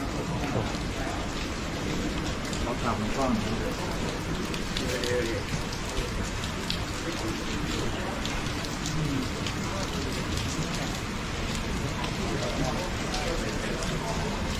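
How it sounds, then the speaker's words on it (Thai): Rain falls steadily outdoors during a Thai Buddhist consecration ceremony, a broad constant wash of drops that runs throughout while people talk over it. "ฝนตก"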